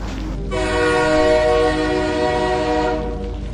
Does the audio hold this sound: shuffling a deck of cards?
no